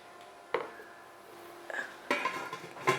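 A metal lid clanks shut on a hot preheated pot used for oven-free baking of a biscuit cake, with a sharp clatter near the start and several more metallic knocks and scrapes later, close by with no talk.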